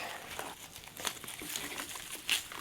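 A dahlia tuber clump with old soil still clinging is pulled apart by hand, giving soft crinkling, crumbling and tearing noises with brief rustles, close and quiet, and no talking.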